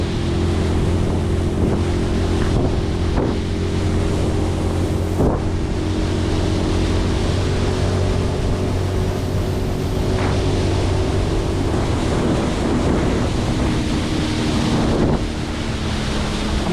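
A 2025 Tracker Panfish 17 boat's outboard motor drones steadily as it runs down a river, with a constant hum, water rushing against the hull and heavy wind buffeting the microphone throughout.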